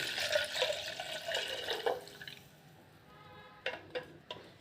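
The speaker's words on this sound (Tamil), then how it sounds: "இந்த பாலை வந்து நம்ம இதில் ஊற்றி" Thick fresh cow's milk is poured into a pot in a home kitchen, giving a soft, quiet liquid splashing that fades and is followed by a few faint drips and clinks.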